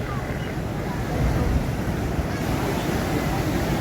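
Fast-flowing Mosam river water pours under the spillway bridge at Malegaon in flood, a loud, steady rushing roar that stays constant from start to finish.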